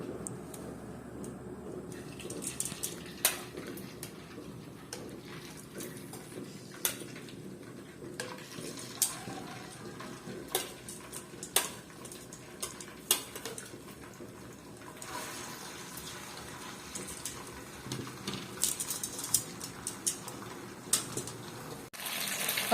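Cleaned tofu fries in hot oil in a home kitchen, giving a soft, continuous, faint sizzle with scattered pops and crackles spread through the stretch and occasional light clinks of cookware.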